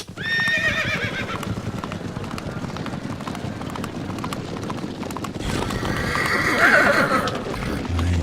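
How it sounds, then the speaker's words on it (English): Horse neighs loudly near the start and again later, over a steady clip-clop of hooves throughout, with voices murmuring faintly beneath. "Look at me, I'm on a horse."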